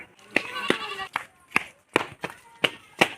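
A goat bleats in short wavering calls close by, broken up by sharp repeated taps or claps at an uneven rhythm.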